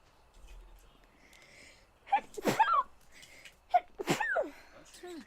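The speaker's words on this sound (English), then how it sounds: "I feel like I gotta sneeze." A loud sneeze bursts out after a quiet stretch, followed moments later by a second sneezing outburst, both close to the microphone with no speech around them.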